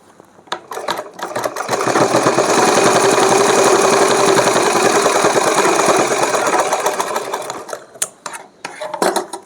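A sewing machine stitches a small dress for a Laddu Gopal idol, running in a loud, steady rapid whir for about six seconds, framed by clicks and handling taps before and after.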